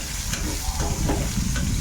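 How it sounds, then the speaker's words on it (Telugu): Teasel gourd stir-frying with curry leaves in a pan, a loud continuous sizzle broken by quick, close scraping strokes of the spoon. "ఇలా కలుపుకుంటూ ఫ్రై చేసుకోవాలి. ఇంకా కొంచెం వేగాలి కాసరకాయలు."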